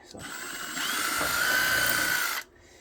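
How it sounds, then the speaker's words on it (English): Power drill boring a pilot hole in a plastic part of a 1/350 scale Refit Enterprise model kit, a close whirring whine that rises and holds for about two seconds before cutting off abruptly. "We're going to let the drill do the work."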